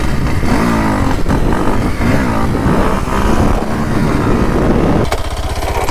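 A Kawasaki KLX 230 dirt bike on loose dirt, its single-cylinder engine revving hard and buzzing loud and close as it swings through a 360 turn, the pitch rising and falling before easing off near the end.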